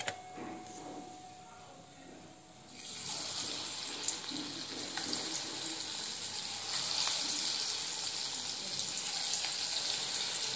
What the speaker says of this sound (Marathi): आपण हळूवारपणे भजी छान फ्राय होऊ देऊया।